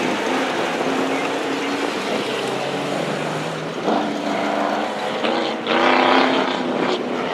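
Race cars accelerate through a corner on a racing course, a loud, continuous engine roar that swells and surges as they pick up speed, with no talking.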